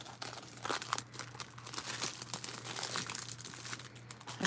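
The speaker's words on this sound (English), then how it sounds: "Sorry for the crinkling." Sheets of collage paper crinkle and rustle near the microphone in bursts of dry crackling, handled continuously over a low steady background hum.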